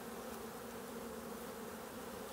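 A steady, dense buzz of many bees, continuous and close, with no pauses or voices.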